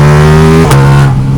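A Ducati Diavel V4 motorcycle engine running hard on a dyno, a loud, close, tonal roar holding steady and then shifting pitch sharply as it changes gear or lets off.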